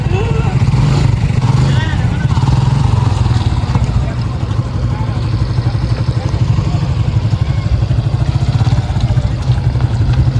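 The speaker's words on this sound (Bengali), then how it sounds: "আমরা এই ডালু দিয়ে এখন বাইকটা নামাইতেছি" A motorcycle is walked and ridden down a rough earthen slope toward the Padma riverbank, its engine running steadily and loud up close for the whole stretch, with faint clatter on top.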